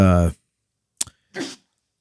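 A single sharp sneeze bursts out after a moment of silence, followed by a brief voiced exhale, with a person talking just before.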